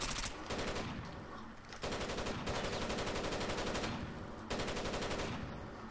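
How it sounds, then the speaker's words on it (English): Heavy machine gun fire in the shooter Rainbow Six Vegas 2, long sustained rapid bursts broken by brief pauses, loud and dense, with no talk over it. "That's a heavy machine gun."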